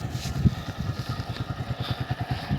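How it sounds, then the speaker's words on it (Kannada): A KTM motorcycle engine idles with its normal stock exhaust, a steady close pulsing thump at an even rhythm, alone without speech. "ಈಗ ನಮ್ಮ ನಾರ್ಮಲ್ ಬೈಕ್ ಸೌಂಡು ನೋಡ್ಬರ್ರಿ ಯಾವ ಥರ ಇದೆ ಅಂತ."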